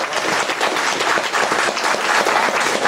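Dense, steady applause fills a conference hall in Alençon, many hands clapping together loudly and continuously with no break.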